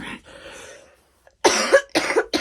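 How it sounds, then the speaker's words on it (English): A person with a lingering cough gives a few sharp, close coughs in quick succession after a brief quiet pause, preceded by soft breathy throat noise. "I still have this cough."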